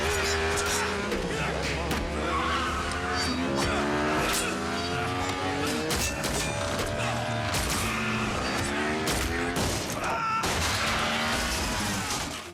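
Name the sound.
motorcycle chase action scene from a film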